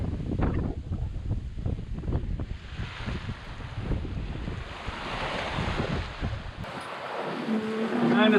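Big ocean waves rushing and sloshing against a boat rounding a point near San Salvador, loud and close with heavy wind buffeting the microphone.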